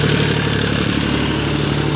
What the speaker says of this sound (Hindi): जॉन डियर 50-45 डी ट्रैक्टर धार बना रहा है देख सकते हैं आप